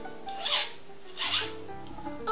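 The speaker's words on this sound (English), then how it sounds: "Our next step is going to be taking our files and filing down the edges of our metal." Hand files rasping along the edges of a metal piece in a craft workshop, two distinct broad scraping strokes about a second apart, close and fairly quiet, followed by faint handling noise.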